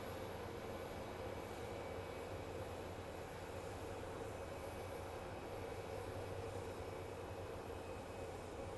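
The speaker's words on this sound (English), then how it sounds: "over there we do have an Ameriflight, Fairchild landing" A steady engine drone fills the air as an Ameriflight Fairchild aircraft lands at Phoenix Sky Harbor International Airport, heard from a distance and constant without any talk.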